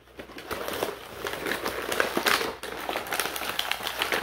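A collectible card pack's plastic wrapper torn open by hand, a continuous close crinkling and ripping with a few sharper crackles, heard alone.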